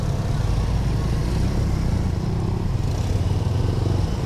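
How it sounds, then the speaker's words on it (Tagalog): Honda Beat scooter engine running loud and close, a steady motor drone with traffic-like road noise throughout. "Lakas ang Honda Beat."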